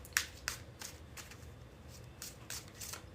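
Tarlac cards being shuffled for a tarot reading: a few crisp riffling bursts and light slaps, close and quiet, spaced irregularly over a few seconds with no talking.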